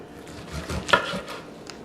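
A knife cuts through smoked baby back ribs on a board, giving a short, muffled crunch and a firm knock as the blade passes through the meat and bone. The sounds are close and brief, with quiet pauses around them.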